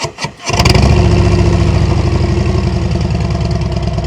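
A motorcycle fitted with a Tab Performance Redline slip-on exhaust cranks briefly, fires up and settles into a loud, steady, throbbing idle close to the listener, with no talk over it.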